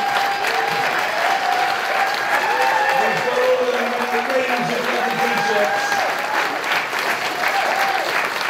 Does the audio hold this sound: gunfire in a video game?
no